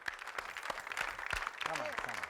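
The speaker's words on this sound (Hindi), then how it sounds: "आपकी तालियों में बुलवा रहा हूँ ताहिरा वास्ती।" Studio audience clapping to welcome actress Tahira Wasti onto a TV talk show, moderate scattered applause with a voice speaking over it toward the end.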